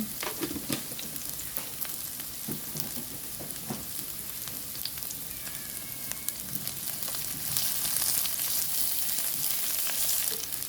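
Steady sizzling of ingredients sautéing in a hot pan with muscovado sugar added, continuous frying crackle with occasional stirring clicks, growing slightly louder toward the end, with no talk.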